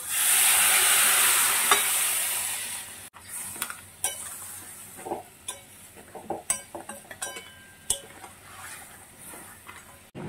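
Crab is stir-fried with spices in a pan, giving a steady sizzle at first and then scraping stirs and metallic clinks from the spatula against the pan, heard close up without talk.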